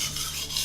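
A knife blade scraped along a wet whetstone, producing a short, soft, even rasping stroke close up.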